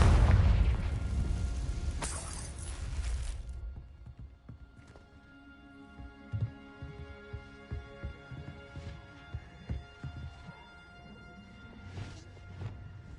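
A Confringo explosive spell blasts in Hogwarts Legacy, a loud booming burst at the start that fades, followed by a quieter run of thumping impacts.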